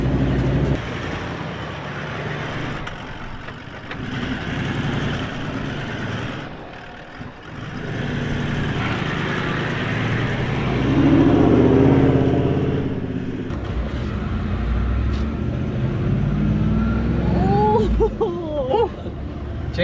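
A Toyota LandCruiser 4WD on 50 boots strains up an uphill sand track on an Australian beach, its engine roaring loud and steady with rising revs, a brief dip midway and a voice whooping and speaking over it.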